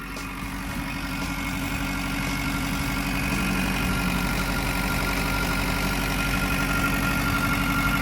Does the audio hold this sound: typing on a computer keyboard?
no